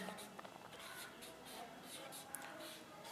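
Chalk or marker writing on a board, with scratchy strokes and taps running in short bursts under a faint voice.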